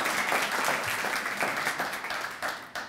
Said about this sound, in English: So I'm going to give us all a little bit of applause for that.